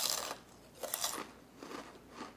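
Close, crisp crunches of someone biting and chewing buffalo wing flavored potato chips, three or four distinct bursts with brief pauses between.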